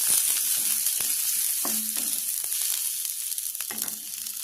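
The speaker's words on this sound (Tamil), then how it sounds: "சின்ன வெங்காயம், பூண்டு போடுறோம்ப்பா" Small shallots and garlic cloves frying in a pan for a greens stir-fry, with a steady close sizzle throughout and a few brief clinks and scrapes of a utensil stirring, no voices.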